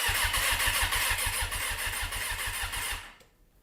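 Suzuki RF900R motorcycle engine being turned over with the starter, a steady rapid pulsing crank for about three seconds with the clutch pulled in, loud and close, then it stops abruptly without firing.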